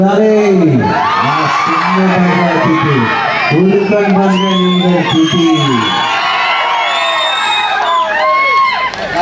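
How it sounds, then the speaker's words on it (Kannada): Loud crowd cheering and whooping at a grand Tulu film trailer launch event, sustained throughout with shouting voices layered over a dense, continuous roar. "ಇನಾಯತ್ ಅಲಿ ಸರ್ಗೆ ನಿಮ್ಮೆಲ್ಲರ ಪ್ರೀತಿಯ ಚಪ್ಪಾಳೆಗಳ ಮೂಲಕ ಸ್ವಾಗತಿಸೋಣ"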